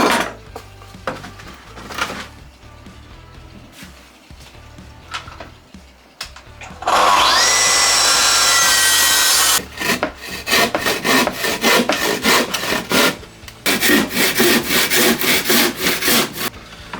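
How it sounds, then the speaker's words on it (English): Wood is cut for a beehive-style garden compost bin: scattered knocks and clatter, then a loud track saw plunge cut whining for a few seconds, followed by rapid rasping jigsaw or handsaw strokes close by. "we use the track saw now to make that plunge cut, and then we'll have to just finish the other bits off with a jigsaw or the handsaw"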